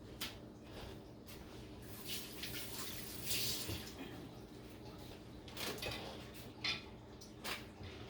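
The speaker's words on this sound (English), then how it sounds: "I'll rinse my hands." Water runs steadily from a kitchen tap as hands are rinsed, a continuous close splashing with small clinks and knocks, and a voice faintly in the background.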